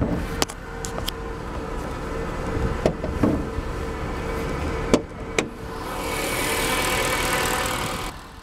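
A 2013 Mercedes C63 AMG coupe with a hand-built 6.3-liter naturally aspirated V8 idles with a steady low rumble, broken by a few sharp clicks and knocks, and a hiss comes in near the end.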